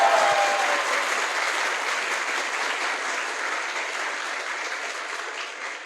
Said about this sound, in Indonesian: Mulai dari tepuk tangannya dulu lah, saya mau lihat.